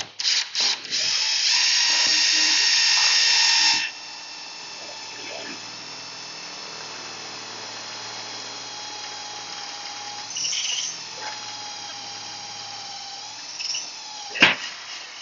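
A drill bit boring a center-punched hole in a scale bumper produces a loud, steady whine for about four seconds, then stops, followed by quieter handling sounds and a sharp clack near the end.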